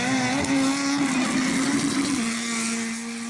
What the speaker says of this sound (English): when he whipped it in there, he was revving up the motor